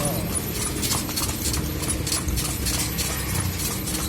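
Hooves of a horse pulling a kalesa carriage along a street in Vigan's Calle Crisologo, clip-clopping in a steady, close rhythm under ongoing road and street noise.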